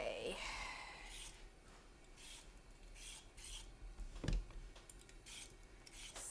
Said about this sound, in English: So just peel your carrots